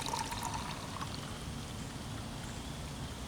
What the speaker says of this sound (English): Sloshing it around already.